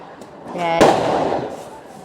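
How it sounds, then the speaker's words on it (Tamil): A country firecracker goes off in the rain during a home Diwali celebration. A voice is heard just before a single sharp, loud bang, which decays into a rumbling tail over about a second. "இந்த மழையில் வெடி வெடிக்கிறானா"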